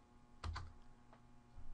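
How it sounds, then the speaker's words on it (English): A computer keyboard key, the Enter key, is struck once with a quiet, close click, then a fainter keystroke follows against a low background hum. "When you push enter,"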